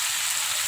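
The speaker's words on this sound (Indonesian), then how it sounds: "sayur daun ubi yang sudah kita potong-potong. Nah, ini kita aduk rata." Chopped cassava leaves sizzling as they are stir-fried in a hot pan, a brief steady hiss close up.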